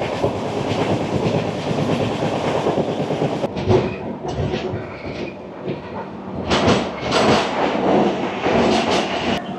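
Samaleswari Express runs after leaving Therubali station in Odisha, rhythmic wheel clatter and rumble heard from onboard, loud and continuous with gusts of wind and shifting rattles midway.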